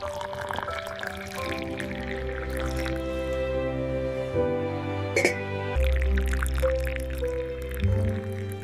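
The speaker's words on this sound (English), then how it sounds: "I pour the water gently." Water poured gently from a kettle into a cup or pot for tea, a steady trickling pour close by with a rising tone as the vessel fills and a few clinks and drips, no talking.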